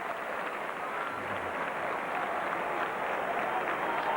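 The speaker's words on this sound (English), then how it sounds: "Sympathetic round of applause for Henry Paul." Steady applause from a large crowd at a rugby match fills the air, a continuous wash of clapping that stays even and moderately loud throughout.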